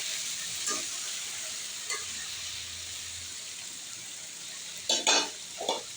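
Eggplant frying in a pan with a splash of water, stirred now and then: a steady low sizzle runs throughout, with a few short scraping stirs, a louder cluster near the end.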